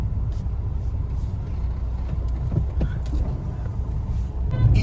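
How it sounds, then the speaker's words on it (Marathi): Road traffic rumbles at Saputara on the Maharashtra–Gujarat border: cars and heavier vehicles pass close by with engine drone, a brief hiss like an air brake, and a louder vehicle approaching at the end. "बघा ट्रॅफिक पहा किती सापुताऱ्यात."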